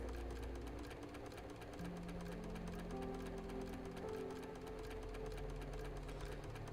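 In Arknights, a sewing machine needle chatters quickly and steadily at low volume, a mechanical rhythm running alone beneath soft held music notes.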